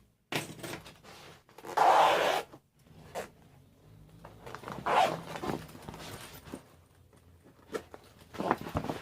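A bag is opened up close with a zipper being pulled in several quick rasping bursts, separated by rustling and handling noises in a quiet room.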